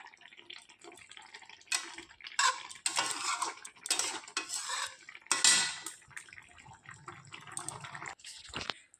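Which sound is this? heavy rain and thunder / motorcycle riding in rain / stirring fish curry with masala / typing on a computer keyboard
stirring fish curry with masala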